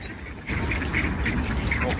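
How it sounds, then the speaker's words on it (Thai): Ducks quack repeatedly while being fed alongside swans, the calls rising over a steady outdoor background noise after a brief quieter start. "มาให้อาหารเป็ดกันนิดหน่อยนะคะเป็ดแล้วก็หงส์เนาะ"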